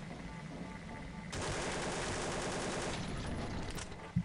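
Gunfire in the video game Overgrowth shooting a door open, a sustained dense burst of rapid shots over steady game background noise.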